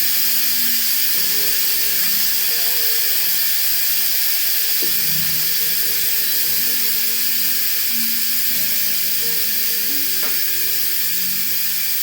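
Steam hisses hard and continuously from an Instant Pot's pressure vent, a loud, dense rush that holds steady throughout, with faint clicks and knocks underneath.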